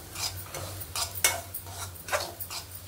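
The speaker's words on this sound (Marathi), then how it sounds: "चांगलं ढवळून घेतलेलं आहे" A spoon scrapes and clinks in a pan while stirring mango shira with chopped dry fruits, irregular metallic strokes about twice a second over a faint low hum, close and fairly loud.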